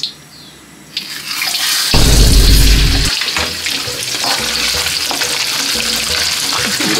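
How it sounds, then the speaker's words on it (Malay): Loud, hissing sizzle of eel frying in hot oil, with a sudden burst of crackling spatter as the eel hits the pan, then steady bubbling. "Ian, goreng belut."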